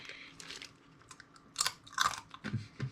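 Someone bites into and chews a crispy piece of food close up, with a few sharp crunches growing louder toward the end over a quiet background.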